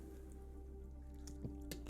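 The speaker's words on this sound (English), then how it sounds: "Let me just take a sip of this water real quick because I'm really thirsty" A person sips a drink of water, giving a couple of faint, brief wet slurping and swallowing sounds near the end of an otherwise quiet stretch with a steady low hum.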